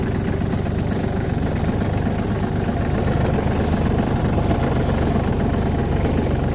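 A tractor engine runs steadily near a farm shed, a continuous close rumble that holds at an even level throughout with no voices over it.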